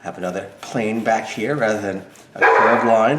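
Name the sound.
dog barking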